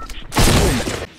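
Rapid gunfire from a Fortnite match, a loud dense burst of shots lasting most of a second after a quieter start, with faint voices in the background.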